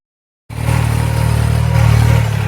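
A farm tractor's engine cuts in abruptly and runs loud and close with a steady low rumble while the tractor is parked back in its spot after spraying soybeans.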